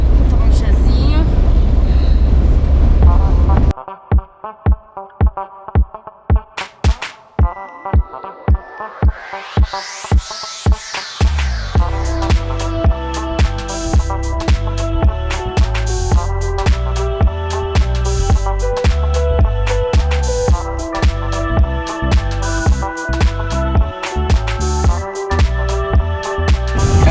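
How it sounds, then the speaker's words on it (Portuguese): Strong wind buffets the microphone at a dangerous border crossing, a steady roar that turns into rhythmic gusting pulses and then a loud, dense rumble lasting nearly half a minute. "É uma força de vento assim que a gente nunca viu na vida."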